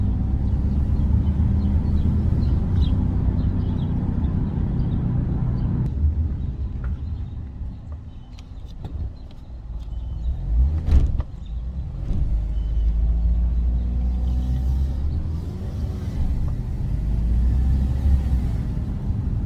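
A 2006 Honda Element with a slipping automatic transmission drives along, giving a steady low road rumble and engine drone that swells and dips slightly through the clip, with no voices.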